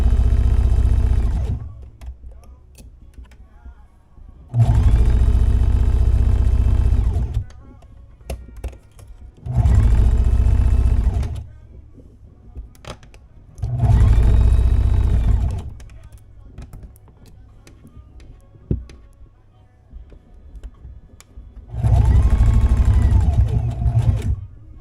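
A sewing machine stitches the hem of a cropped tee in four or five loud, close bursts of whirring, with quieter pauses between them where fabric is shifted and small clicks and handling noises are heard.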